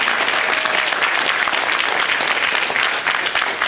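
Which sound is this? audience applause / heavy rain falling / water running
audience applause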